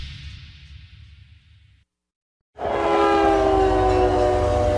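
Freight train heard from inside a boxcar: a loud, steady roar with ringing metallic squeal tones, briefly cut to silence, then returning close and continuous, with no voices.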